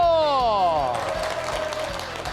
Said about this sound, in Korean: 울산 청년들 파이팅하라고 박수 한번 보내주세요.